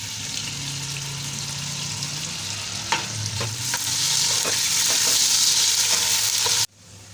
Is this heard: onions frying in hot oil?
yes